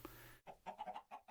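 A rooster in the Minecraft Genetic Animals mod clucks in a rapid series of short, bright, faint clucks after a brief opening squawk, with no other sound.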